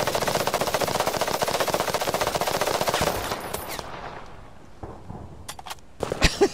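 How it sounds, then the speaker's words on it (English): Rapid automatic gunfire in a multiplayer war video game, Fog of War, with dense sustained bursts for about three seconds, then the firing thins out into a few scattered, sharper shots near the end. "Getting shot at, that's where I am."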